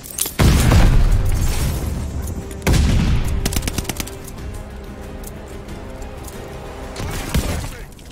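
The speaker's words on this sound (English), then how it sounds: "Passing stun grenade!" A stun grenade detonates in Call of Duty Vanguard as a loud blast, followed by a second heavy burst and scattered gunfire, then a lingering rumble and another burst near the end.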